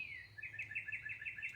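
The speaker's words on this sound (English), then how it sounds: "I think it was a sparrow" A sparrow sings a quick series of bright, evenly spaced chirps that repeat about every fifth of a second, fairly faint and a little distant, with a low murmur of outdoor background underneath.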